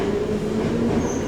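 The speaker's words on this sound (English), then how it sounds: "The train started moving." A train starting to move gives a steady low rumble with faint tonal hums and a brief high squeal, a continuous rolling drone with no talk.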